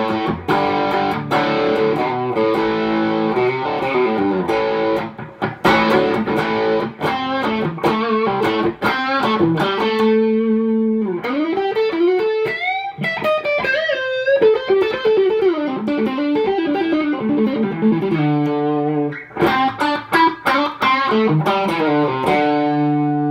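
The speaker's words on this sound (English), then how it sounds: "1976 Les Paul Standard, the Bullet Seafoam Green Coil Cable, and it sounds like this." A 1976 Gibson Les Paul Standard electric guitar played through a Bullet Seafoam Green coil cable rings out loud and distorted, alternating strummed chords, sustained notes and single-note melodic runs, heard alone without talk.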